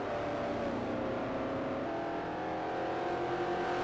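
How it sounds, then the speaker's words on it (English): Historic Trans Am race cars, including a 1968 Chevrolet Camaro, roar around Laguna Seca in 2011, a loud continuous engine drone with steady high revs and no talk. "Here we have Dot, and I can't tell who else that is in that Camaro, the 68 Camaro."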